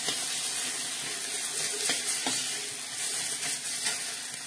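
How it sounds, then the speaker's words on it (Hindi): Masala sizzles and fries in oil in a kadhai, a continuous bright hiss with a few soft scrapes of stirring, steady and close, with no talking. "और इधर हमारा मसाला भी भून रहा है।"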